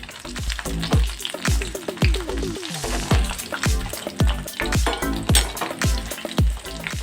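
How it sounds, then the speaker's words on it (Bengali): Battered prawns frying in hot oil for a crispy golden fry, with loud, bubbling sizzle punctuated by a quick series of sharp clinks and scrapes of a utensil against the pan. "আমি এইভাবে হালকা করে একটু ভেজে নিলাম"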